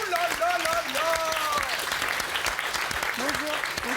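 A television studio audience claps in a steady burst of applause while people talk over it in the foreground.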